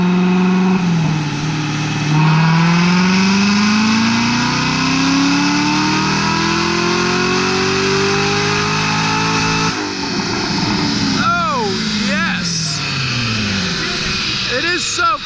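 A 2019 Corvette ZR1 with a cat delete and Corsa X-pipe pulls hard on a dyno, engine revving up in a long rising sweep to a loud roar, then dropping and blipping; people talk over it.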